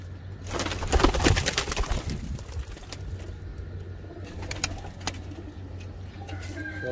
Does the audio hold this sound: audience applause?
no